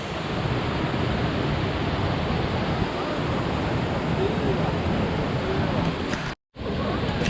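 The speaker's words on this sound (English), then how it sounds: "Everywhere you go, there's sick little pools and waterfalls." Waterfall and small pools in Laos, a steady, loud broadband rush of falling water that continues without a break and drops out abruptly near the end.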